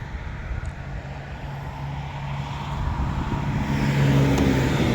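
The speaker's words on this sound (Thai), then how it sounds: "ติดถนนใหญ่เลยครับ รถเสียงดังหน่อยครับ" Traffic roars along a busy main road beside the Sukhumvit canal in Thailand. A steady rumble of passing cars and trucks swells louder toward the end, with one vehicle revving nearby.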